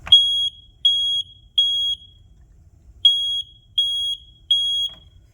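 A Kidde i4618AC smoke alarm sounds its test pattern: two groups of three sharp, loud, piercing beeps, each group followed by a pause.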